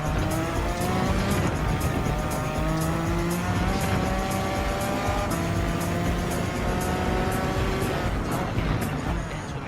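Suzuki V6 Escudo Pikes Special '98 race car in Gran Turismo 7 on a hill-climb time trial, its engine screaming loud and constant at high revs, rising and falling through gear changes, with tire squeal and no talking.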